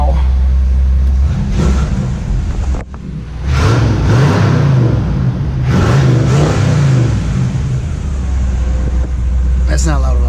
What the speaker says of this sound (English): But here's my exhaust.